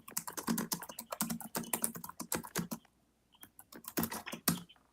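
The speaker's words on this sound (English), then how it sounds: "Someone's typing that I hear." Typing on a computer keyboard during an online call, a quick clatter of key presses in bursts with a short pause, faint and somewhat distant.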